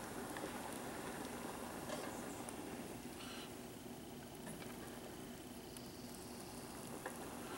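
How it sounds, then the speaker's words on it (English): Water boiling vigorously on a small pocket stove for spaghetti noodles, a constant close bubbling sizzle with no talk over it. "Yeah, it's boiling really good."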